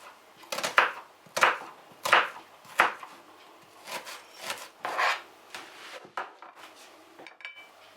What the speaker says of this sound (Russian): Натираем на крупной терке картофель.